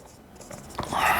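Chalk or marker scratching across a board during a mathematics lecture on group theory, a few short scraping strokes that grow louder toward the end, close and alone without talk.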